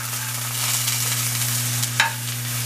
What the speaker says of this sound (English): I'm sauteing my cremini mushrooms